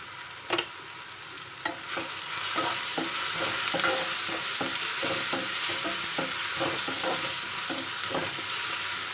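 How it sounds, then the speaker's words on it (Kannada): Tomato and onion fry and sizzle in a pan, with repeated close scraping strokes of a spoon stirring through a steady hiss; no voices are heard. "ಈರುಳ್ಳಿ ಕೆಂಪಾಗೋ ತನಕ ಹುರ್ಕೊಳ್ಬೇಕು. ಟೊಮೆಟೊ ಈರುಳ್ಳಿ ಫ್ರೈ ಆಗಿದೆ."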